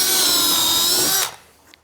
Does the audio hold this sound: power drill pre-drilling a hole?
yes